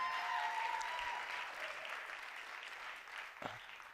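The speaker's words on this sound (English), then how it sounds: "Give him a huge round of applause." Fairly faint applause from the audience at a Petoskey Chamber community event, steady clapping that gradually thins out, with a bit of voice mixed in.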